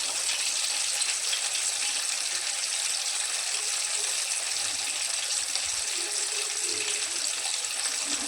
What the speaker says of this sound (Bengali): তেলটা ভালো করে গরম হয়ে গেলে এক এক করে মাছগুলো ভেজে নেব।